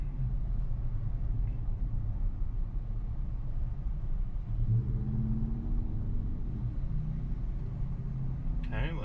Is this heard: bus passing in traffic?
yes